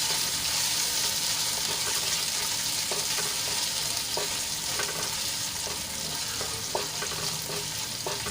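Chillies and ginger sautéing in hot oil for a fasting sabudana khichdi, a dense steady sizzle with light scraping stir taps now and then, close and continuous, no speech.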